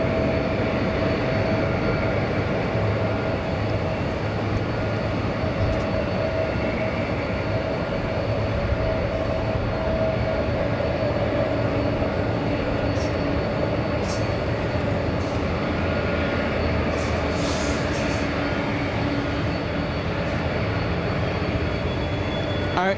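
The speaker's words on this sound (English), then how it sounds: "Little E175 getting a move on. This one taking off in front of us in just a few seconds, flying to Oakland." An Embraer E175 jet taking off at Los Angeles International Airport gives a loud, continuous broadband engine roar and rumble that holds steady throughout without pause.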